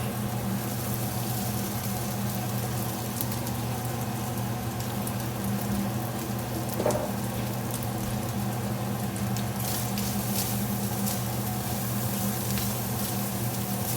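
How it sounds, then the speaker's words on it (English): Leftover corned beef brisket frying in oil in a pan, a steady soft sizzle and crackle continuing throughout at a low level, with a faint clink midway and no talking. "Just a little bit more oil. Add in my corned beef."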